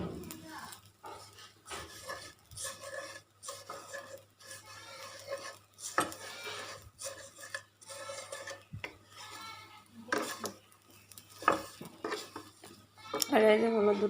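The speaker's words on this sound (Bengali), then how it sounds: "এই যে ঘি দিয়েছি কড়াইয়ের ভিতরে, এখন এটা ভাজবো।" Ghee heats in a kadai pan with a soft sizzle while a utensil stirs and scrapes against the metal, giving intermittent clinks close by under a quiet voice speaking.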